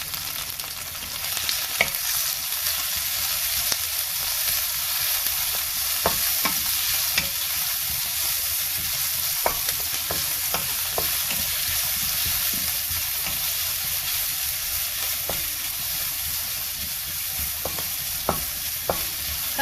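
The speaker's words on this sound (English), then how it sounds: "Give it a quick stir and add in the salt a little bit for the onion to cook faster." Onions with a little salt fry in a pan under a steady, dense sizzle, broken by frequent sharp clicks and scrapes from stirring, with no voices.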